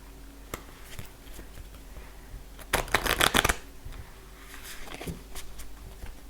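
Tarot cards shuffled in a quick riffling burst around the middle, loud and crisp against a quiet room, with a few softer card taps before and after.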